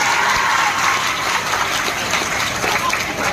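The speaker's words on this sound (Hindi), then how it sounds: "सबसे पहले जितने लोग खड़े हैं उन सारे बॉयज के लिए तालियां बजाइए" Students clapping together at a coaching-class anniversary party, a dense wash of applause from a large crowd that holds steady and loud, with faint voices mixed underneath.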